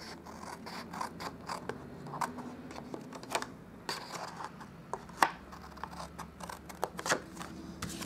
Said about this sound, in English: we are going to cut this side completely off